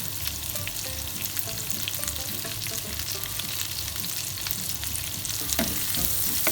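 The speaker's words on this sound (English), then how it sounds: "I'm going to saute that for about 5 minutes till your onions go translucent and they also slightly start browning up a little bit." Onion and garlic sautéing in butter hiss and crackle in a steady, dense sizzle, close up, with faint stirring clicks and a louder burst near the end, and no voices.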